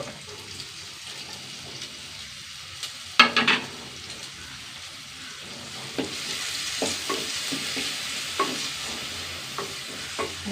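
Garlic cloves and a small piece of ginger sizzle and crackle in a hot pan with shallots, a steady frying hiss with a brief louder burst of clatter near the start, close and without talk.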